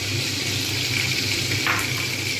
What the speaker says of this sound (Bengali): এইবারে আমি দিয়ে দেবো কালো জিরে এখানে যে কালো জিরেগুলো রেখে দিয়েছিলাম ওটা এর মধ্যে আমি ঢেলে দিলাম